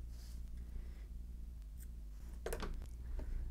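Scissors snip through paper while finishing a handmade genie pocket wallet, a few quiet crisp cuts near the end over a low room hum.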